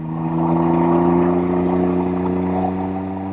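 A Can-Am Ryker Rally three-wheeler engine running at a steady, even hum with a strong low drone, loud and close, holding a constant pitch rather than climbing, with no talking.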